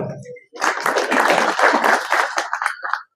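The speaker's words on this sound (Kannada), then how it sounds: "ಈ ಜಾತ್ರೆ ನಡೆಸ್ಕೊಟ್ಟಿರ್ತಕ್ಕಂಥ ಪೊಲೀಸ್ ಇಲಾಖೆಗೆ ನನ್ನ ಕಡೆಯಿಂದ ಒಂದು ಚಪ್ಪಾಳೆ" After a brief pause, a hall full of people at a preparatory meeting for the Avani Sri Ramalingeshwara temple chariot festival bursts into dense, sustained applause lasting nearly three seconds before stopping abruptly.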